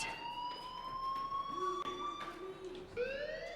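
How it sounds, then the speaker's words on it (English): A school fire alarm in the video game Life is Strange wails with steady electronic tones that shift in pitch, moderately loud and continuous, with scattered faint background noises. "Hey, do you hear that fire alarm? That means you should be outside."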